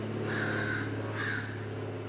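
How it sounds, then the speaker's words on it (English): A crow caws twice, about a second apart, each call drawn out and harsh, heard outdoors at a moderate distance over a steady low hum. "then there's that goddamn crow again"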